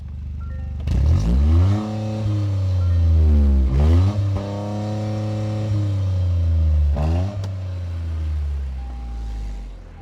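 A 2023 Toyota GR Corolla with all-wheel drive and a soft rev limiter near 4,200 RPM revs loudly up close, its engine note climbing and falling in three sweeping pulls before settling to a steady idle.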